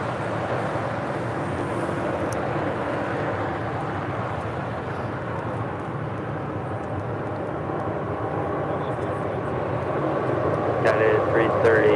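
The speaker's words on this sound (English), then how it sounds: "we've got that United 777-200 heading to Chicago O'Hare, flight 2039, now rolling down 25 right" A United Boeing 777-200 bound for Chicago O'Hare rolls down runway 25 right at LAX on its takeoff run, a steady broad engine roar that grows louder toward the end, with faint voices over it.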